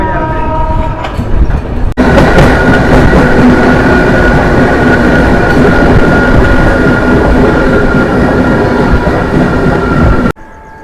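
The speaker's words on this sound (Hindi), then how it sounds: "The train has been maintaining a spectacular speed that way," Kerala Sampark Kranti Express rolling at high speed, a loud, steady roar of wheels and carriage rumble that fills most of the recording, with a quieter interior hum at the start and a sudden drop at the end.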